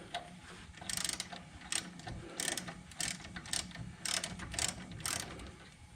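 A thin wrench works a 19mm bolt loose on the hub and caliper assembly of a Ram truck, giving repeated bursts of ratcheting mechanical clicks in an uneven rhythm, close and fairly quiet, with no talking.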